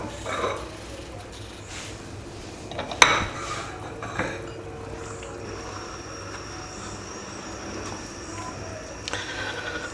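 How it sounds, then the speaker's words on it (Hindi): Cauliflower goes into a soup pot, with metallic clinks of a spoon and utensils against the pot and a sharp clank, under steady kitchen background noise. "फूल गोभी है, इसे ऐसे काट के थोड़ी सी वो डाल रहे हैं इसमें।"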